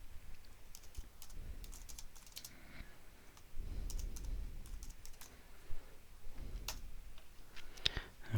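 Soft typing on a computer keyboard as a question is entered into an HTML editor: irregular bursts of light clicks, close and quiet, with no talking.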